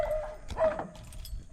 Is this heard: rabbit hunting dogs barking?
yes